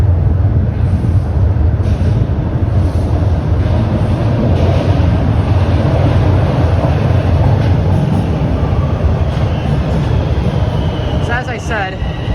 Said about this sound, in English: I believe there's another westbound train arriving.